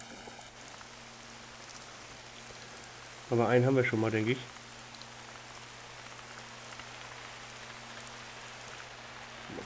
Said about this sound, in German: Ja, super Regen, jetzt kann ich nichts sehen.